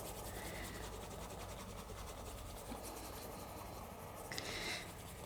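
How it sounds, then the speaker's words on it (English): A wooden burnishing tool is rubbed along a dampened leather edge, making a faint, steady back-and-forth friction rasp with a slight squeak near the end. "This is just kind of a wooden tool for burnishing, so this is what will apply your friction."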